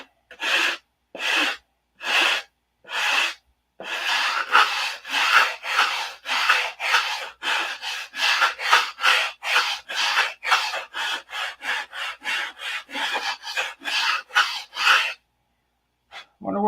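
Hand sanding and shaping a wooden part for a 1/2A Cobra model, heard as a long run of rhythmic rasping strokes, a few spaced ones first, then steady rapid back-and-forth scrubbing, close and alone.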